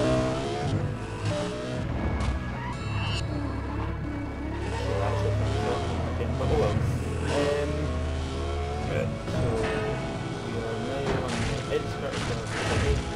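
High-revving engine of a Lexus LFA held near the top of its rev range in the Need For Speed World racing game, a steady loud sustained drone with game music and effects layered throughout.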